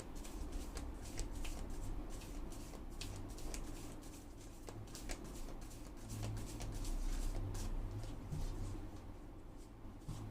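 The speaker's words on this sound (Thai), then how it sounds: "อาจารย์ขอสรุปความสัมพันธ์ด้วยไพ่ ออราเคิลค่ะ" Oracle cards are shuffled in a steady, soft papery riffle that runs continuously for about ten seconds, faint and close, over a low hum of room noise.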